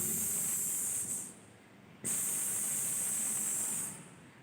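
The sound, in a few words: voice imitating the hissing sound of letter S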